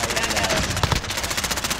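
Rapid automatic gunfire from Call of Duty: Modern Warfare rattles in a steady, fast stream of evenly spaced shots, loud and close, with a brief louder burst near the middle.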